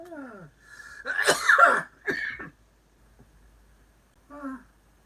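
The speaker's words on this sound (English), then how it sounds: "and you're still coughing" Close-up, raspy coughing in a few rough, throaty bursts with short pauses between them, ending in one smaller cough after a moment of quiet.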